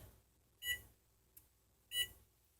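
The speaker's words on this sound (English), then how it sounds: "now I'm just gonna set my timer" A kitchen timer gives two short electronic beeps about a second apart as it is set, with a small click between them in an otherwise quiet room.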